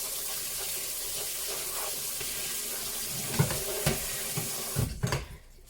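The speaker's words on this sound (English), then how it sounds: "we are going to rinse off our shrimpies" Shrimp rinsed under a running kitchen tap, with a steady rush of water into a sink and a few louder splashing bursts near the end before the flow cuts off.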